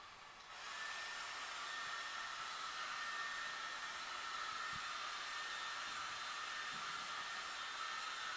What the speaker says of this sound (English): HiFi is slowly blow drying the painting.